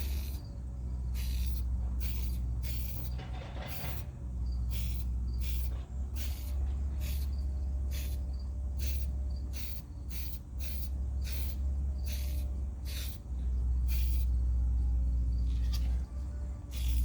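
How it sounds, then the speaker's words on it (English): A trigger spray can hissing in short, evenly spaced bursts during a wagon restoration, each spurt brief and close over a steady low background hum, with no talking. "One thing about these kind of trigger cans, I haven't found one that's ever really sprayed very well at all."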